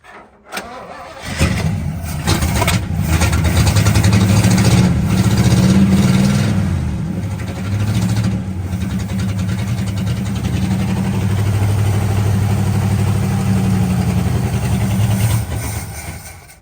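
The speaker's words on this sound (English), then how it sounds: "Well, it runs. Bit of a misfire" A 1964 El Camino that has sat unused for a long time cranks and fires up, then revs and settles into a rough, loud idle with an uneven misfire running through the steady engine drone.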